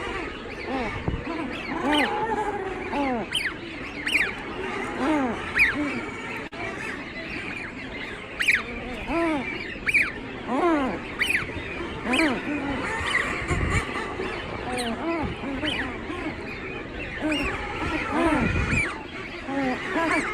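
Seabird breeding colony with adults and chicks, a dense continuous chorus of overlapping squealing and honking calls, close and loud, with occasional thumps and handling noise throughout.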